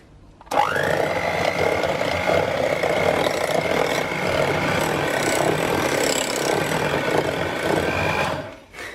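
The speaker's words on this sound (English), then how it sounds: "And now we're just going to whisk it until it's smooth." An electric whisk or hand mixer beats a 250 g tub of ricotta in a bowl, a steady, loud motor whir running continuously for about eight seconds with no talk.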